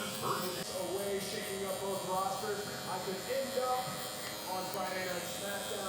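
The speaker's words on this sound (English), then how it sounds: "So now I'm going in with my clipper open, setting in my next section, and I'm gonna blend this out for y'all." A Gamma Cyborg hair clipper hums steadily while blending a haircut, with a constant close buzz and someone talking over it.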